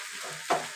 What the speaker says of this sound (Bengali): এবারে হালকা ভাজতে থাকবো। এর মধ্যে কোনো জল দেবো না, তেল বেশি করে দিয়েছি, তো এই তেলেই এটা ভাজা হয়ে যাবে।